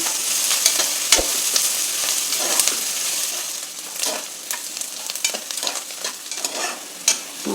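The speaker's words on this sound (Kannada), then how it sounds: "ಈರುಳ್ಳಿ ಫ್ರೈ ಆಗಿದೆ" Onions fry in a pan for a rice upma, a close, continuous sizzle with a few sharp clicks and scrapes of stirring and no talking.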